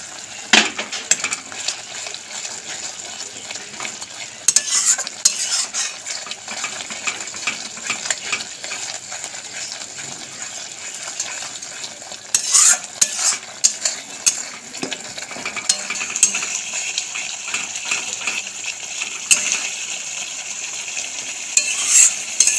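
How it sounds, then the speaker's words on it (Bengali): Spice masala with fried onions for a Bengali parshe fish curry is stirred in a hot pan, giving a continuous sizzle broken by bursts of spoon scraping and clinking against metal. "মশলা কষাতে কষাতে বেরেস্তা পেঁয়াজটাও দিয়ে দেবো"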